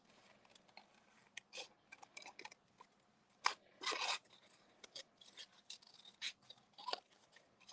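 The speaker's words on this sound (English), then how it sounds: "I'm going to kind of fussy cut and kind of follow the words around a little bit and just make it a little bit more curved" Scissors fussy-cutting around stamped words on paper for a card, a close, quiet run of short crisp snips and rustles in irregular bursts, with a couple of longer cuts near the middle.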